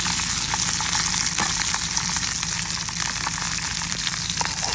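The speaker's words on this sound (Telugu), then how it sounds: "నూనె మరిగిన తర్వాత అల్లం ముక్కలు వేసా, దాని తర్వాత ఎల్లుల్లిపాయ ముక్కలు వేస్తున్నా." Ginger pieces, then garlic pieces, frying in hot oil for a ginger garlic soup, giving a steady, dense sizzle with scattered crackling pops throughout, close and loud with no talking.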